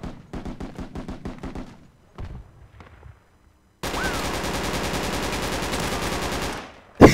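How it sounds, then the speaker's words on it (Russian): Automatic gunfire in the military shooter Project Reality on an Al Basrah map: rapid machine-gun bursts, then a sparse pause, then a long sustained roar of heavy firing close by, with no talk. "Стреляют, стреляют, уходите."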